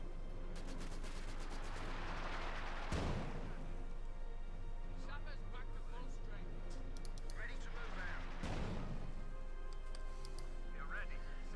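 Tank cannon fire in Company of Heroes 2, a Comet tank's 77mm gun firing, with two heavy booming shots over continuous battle noise and steady commentary.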